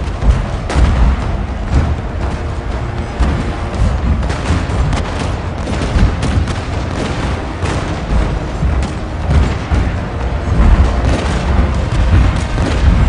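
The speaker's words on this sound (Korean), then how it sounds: "자, 전부대 포격 개시." Massed cannon bombardment across a Total War: Shogun 2 battlefield in an Imjin War setting, a dense continuous rumble of overlapping booms and volleys, loud and sustained with no voices on top.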